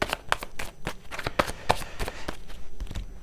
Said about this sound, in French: je vais rebattre, comme ça, je vais brasser justement les énergies des cartes